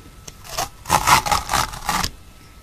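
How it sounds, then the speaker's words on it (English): Adhesive strip backing peels up from paper for a DIY bifold card with a flap, a close run of dry, rasping tears in several short bursts, then quiet. "Then you're just going to peel it up"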